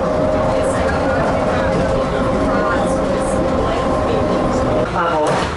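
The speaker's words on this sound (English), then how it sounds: "they have a train that takes you around the airport" An elevated airport shuttle train rolls along with a steady rumble and a sustained whine, faint squeals and clicks over the track, loud and close throughout.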